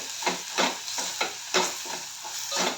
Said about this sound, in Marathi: त्याच्यामध्ये मी दोन हिरव्या मिरच्या पण घातलेल्या आहेत आणि चवीप्रमाणे मीठ हे चांगलं फिरवून घेते